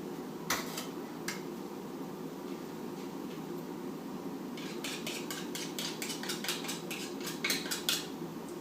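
A metal spoon scrapes the last contents out of an opened can in a kitchen, faint isolated clinks early, then a quick run of rapid scraping clicks against the tin over a steady background hum.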